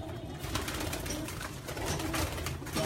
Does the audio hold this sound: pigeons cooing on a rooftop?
yes